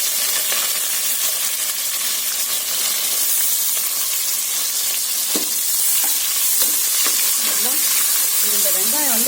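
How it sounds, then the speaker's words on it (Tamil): Sliced onions sautéing in a pan for mutton biryani give a steady close hiss and sizzle with occasional stirring clinks, while a voice talks over the cooking. "இந்த வெங்காயம் வந்து பார்த்தீங்கன்னா நல்லா வதங்கணும்"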